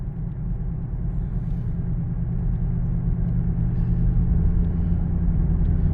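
Dodge Charger engine running on four cylinders in fuel-saving mode gives a steady, low, muffled drone heard from inside the car, even and unbroken throughout, with no voices.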